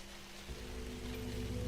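Steady rain falling in a video game story scene, a soft continuous hiss with a low hum beneath it and no voices.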